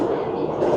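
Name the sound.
express train passing through a small station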